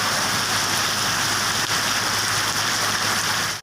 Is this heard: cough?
no